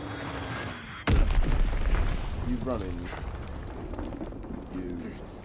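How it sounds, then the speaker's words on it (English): A bomb going off in the Call of Duty multiplayer video game: a sudden loud boom with a heavy low rumble that lingers and fades over several seconds, while a voice talks over it. "Enemy bomb incoming."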